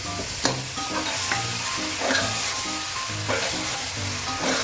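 Chicken fries and sizzles in a pan while being stirred, with steady crackling and repeated scraping strokes over a constant tonal background.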